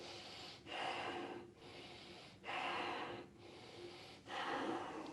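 Slow, deep breathing from a person holding a yoga pose during a Kundalini yoga session, three long airy breaths with short pauses between them, close to the microphone and with no talk.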